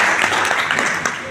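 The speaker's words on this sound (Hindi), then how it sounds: "बहुत जोरदार तालियों।" An audience gives a short burst of dense, loud applause at an indoor gathering, with a voice speaking over the clapping.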